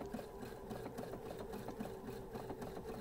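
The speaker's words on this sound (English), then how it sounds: "Now I'm doing another zigzag stitch." A sewing machine runs a zigzag stitch, giving a faint, continuous mechanical whir with a steady low tone and light rhythmic ticking throughout, heard alone with no voices.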